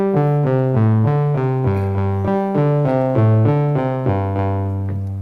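Analog synthesizer playing a repeating stepped-note sequence from the first row of a Q119 sequencer, bright buzzy tones stepping up and down in a steady rhythm, close and alone.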